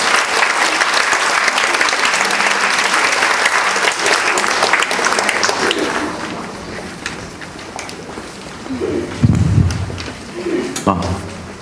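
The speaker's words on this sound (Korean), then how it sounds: "귀중한 시간을 내주신 이범 강사님을 큰 박수로 모시겠습니다" Audience applause greets a lecturer arriving at an education talk for parents, a loud, dense clapping that fills the room for several seconds, then thins and fades into scattered claps and shuffling.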